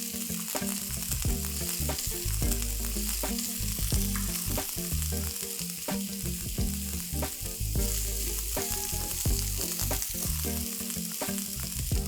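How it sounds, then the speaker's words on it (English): Steady, loud sizzling of vegetables and whole green chilies on a hot grill alongside chicken kebabs at a campsite, continuous crackle with frequent popping and no voices. "While these vegetables are getting grilled"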